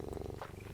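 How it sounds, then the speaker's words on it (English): A house cat purrs right against the microphone, a close, steady low rhythmic rumble of pulsing breaths, ending in a brief brighter noise. "He's purring directly into the microphone"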